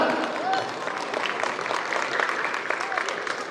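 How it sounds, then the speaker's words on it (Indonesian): Audience applause at a PSI party event honoring Kaesang Pangarep, a steady dense clapping crowd sustained throughout at moderate level. "Boleh minta suara tepuk tangannya juga untuk Mas Kaisang Pangarep."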